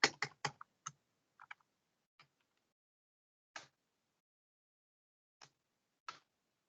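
Computer keyboard typing in sparse bursts: a quick cluster of keystrokes at the start, then isolated single clicks spaced seconds apart, close and fairly quiet with no talking.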